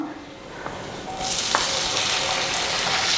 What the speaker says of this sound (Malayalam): ഇനി നമുക്ക് ഇതിനകത്തോട്ട് അരിഞ്ഞു വെച്ചിരിക്കുന്ന തക്കാളി ചേർത്ത് കൊടുക്കാം